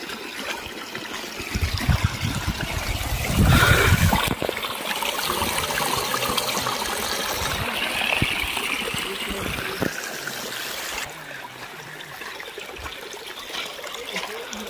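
Water trickles and flows steadily throughout along a lake shore, a close continuous rushing with a louder surge partway through.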